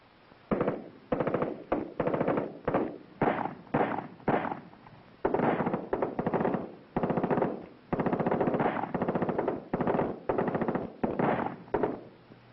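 Repeated bursts of rapid machine-gun fire from a captured enemy machine gun in military training, about a dozen short volleys separated by brief pauses, loud and sharp with no talking.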